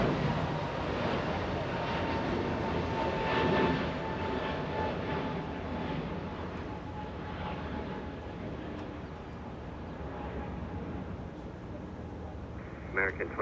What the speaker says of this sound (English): 2885 lifting off. Flying to Dallas, Texas, A321.